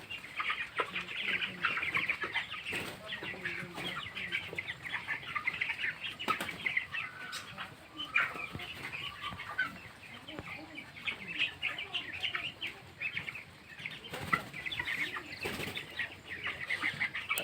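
Nineteen-day-old broiler chickens on a poultry farm at evening make continuous soft clucking and bursts of wing flapping, fairly faint and busy throughout.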